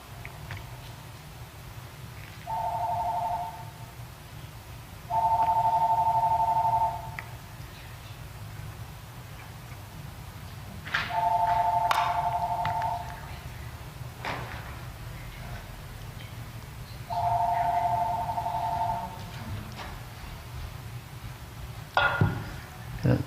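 A church telephone rings in four separate bursts spaced several seconds apart, each a steady electronic trill lasting one to two seconds, heard at moderate distance over a quiet room.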